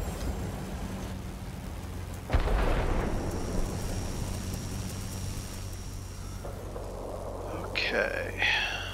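Heavy storm thunder rolls through a World of Warplanes air battle around a Chance Vought F4U-4 Corsair: a sharp crack, then a long rumbling wash that swells again near the end, with a steady engine drone beneath.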